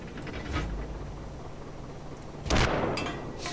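A single loud tank cannon blast in World of Tanks bursts out about two-thirds through, trailing a rumbling decay over a steady low mechanical hum and faint clanks.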